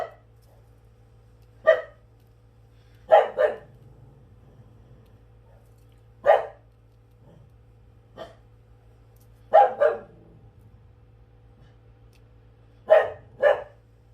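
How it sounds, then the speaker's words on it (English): A pet dog barks in short bursts, often in doubled yaps, spaced several seconds apart in an otherwise quiet room over a low steady hum. "there goes one of my dogs"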